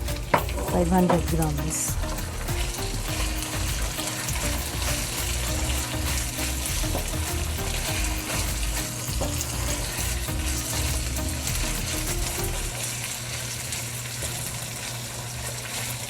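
Chicken liver hits a hot pan and sizzles loudly, with stirring scrapes throughout. A voice speaks briefly near the start over steady, close frying.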